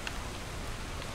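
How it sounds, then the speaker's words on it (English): Rain falling in the video game Atlas, a steady broadband hiss of drops that stays even and close throughout, with no talking. "Oh, it's raining."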